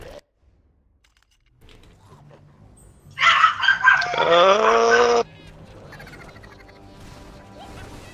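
Dog in a streamer's room giving a short burst of barking and yelping that stands out loudly for about two seconds against a quiet room, with soft background sound around it.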